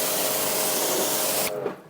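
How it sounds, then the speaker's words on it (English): A trigger sprayer mists detailing product onto a ceramic-coated car door in one sustained, close hissing spray of about a second and a half, ending abruptly. "So if we spray again here,"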